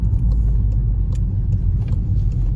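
A Seat Leon FR driving on an icy, slippery road, a low steady engine and road rumble from inside the car with faint tyre noise, no voices.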